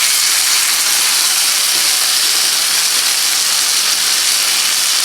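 Chicken sizzling on a hot sizzler plate for a Mexican sizzler, giving off a loud, steady, unbroken hiss with no talking over it.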